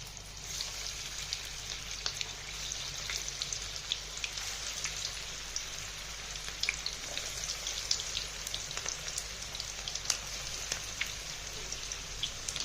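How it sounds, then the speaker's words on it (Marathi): Sabudana rolls deep-frying in hot oil, a steady dense crackle and hiss that holds evenly throughout like light rain, close and moderately loud with no talking. "तेल तापायला ठेवलं गॅसवरती, तेल तापलंय बघा। आता त्याच्यामध्ये आपण रोल सोडून देऊया।"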